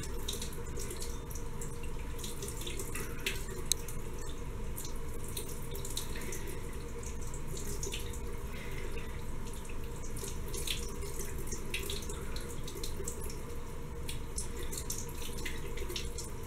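Water runs steadily from a tap while skincare is rinsed off at a sink, a constant close splashing rush with no talk.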